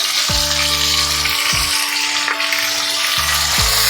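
Tomato with salt and a spoon of asafoetida sautés in a pan for vegetarian brinjal bahar, a close, steady crackling sizzle with a few stirring scrapes, while low humming tones start and stop in the background.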